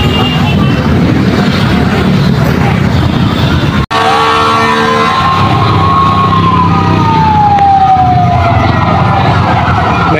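A fire truck's wailing siren sweeps down in pitch as it passes loudly along a street, over steady traffic rumble and engine noise, with people talking nearby.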